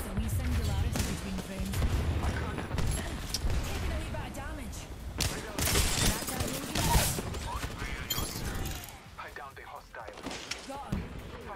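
Rapid gunfire in an Apex Legends match, repeated sharp shots and bursts close up, with impacts and game effects throughout and a brief pause near the end.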